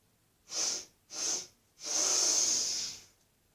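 Three forceful sniffs in through the nose, two short ones followed by a longer drawn-out inhale, close and breathy with no talking.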